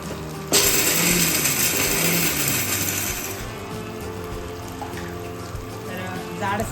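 A mixer grinder coarsely grinding roasted peanuts whirs loudly as it starts, a dense grinding roar that runs for a few seconds before easing into a lower, steadier churn.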